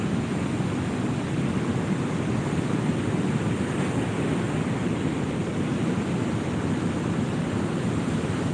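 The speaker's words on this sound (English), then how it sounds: "The waves keep coming." Ocean surf rolls in as a constant loud roaring wash, broad and unbroken like heavy waves and wind close to the microphone, with no voices over it.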